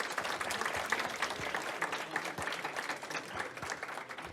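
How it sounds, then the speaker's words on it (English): An audience applauds the event sponsors at a fall student club meeting, a steady, fairly loud wash of many hands clapping that holds through the whole stretch with no talk over it. "Clap it up for the sponsors."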